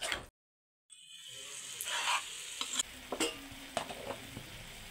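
Chicken seasoned with turmeric and salt fries in a pan, with a brief gap followed by a steady close sizzle and several sharp scraping strokes as the pieces are stirred.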